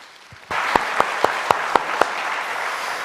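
A church congregation applauds in worship, a sudden wash of clapping with several sharp, evenly spaced claps standing out near the front, then fading steadily.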